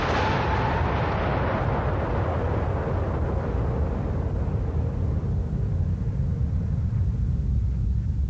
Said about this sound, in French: une seconde explosion se produit